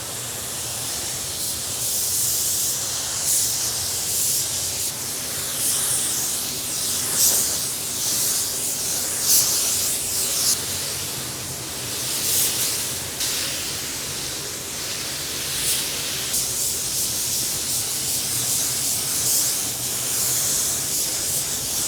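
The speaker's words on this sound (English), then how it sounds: "We're gonna hit these bare metal spots with some 1K etch in a can." A 1K etch primer aerosol can sprays onto bare metal spots in a steady hissing stream, broken into a few short pulses, loud and close with no talking.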